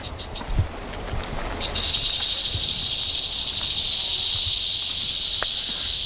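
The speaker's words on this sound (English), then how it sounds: "Rattle! It's coming from up the creek." A steady, dry buzzing rattle from a large western diamondback rattlesnake up a creek starts after a few rustling steps and continues without pause, moderately near, over an outdoor background.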